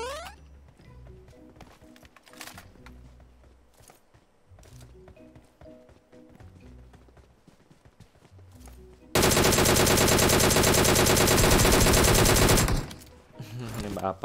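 Video game gunfire: scattered shots and clatter first, then a loud sustained automatic burst of several seconds that cuts off, with voices talking at times.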